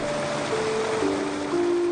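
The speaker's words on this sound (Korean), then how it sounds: "중간중간 있는 계곡에서 가만히 물 흐르는 소리만 들어도 시원함을 느낄 수가 있습니다" Water flows steadily through a valley stream in a summer forest garden, a constant soft rush heard alone with no voices.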